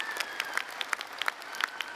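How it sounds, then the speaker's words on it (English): A university commencement crowd applauds, with distinct individual claps standing out in a quick, uneven patter against a fainter background of many hands, moderately distant. "It's a big round of applause for you."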